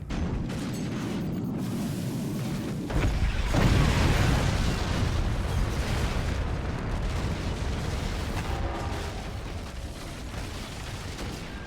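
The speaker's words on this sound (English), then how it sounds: "here comes the howitzer. Swing and a miss, but the cannon doesn't" Howitzer cannon fire and a heavy explosion in a multiplayer video game match, a loud deep boom that bursts in after a few seconds, then a long rumbling roar and debris noise that slowly fades.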